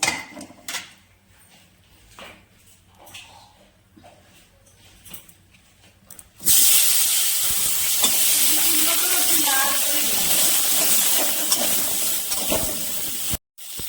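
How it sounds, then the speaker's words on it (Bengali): Cauliflower frying in oil in a wok: after several seconds of quiet, a loud, steady sizzle bursts in and holds, with occasional stirring scrapes. "এবার আমি এই তেলের মধ্যে ফুলকপিগুলো ভেজে নেব।"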